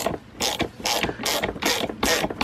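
A 3/8-drive ratchet with an extension and T30 Torx socket loosens a screw on a Mercedes-Benz ML350 rear window regulator, giving five or six quick, close bursts of sharp clicking in an even rhythm.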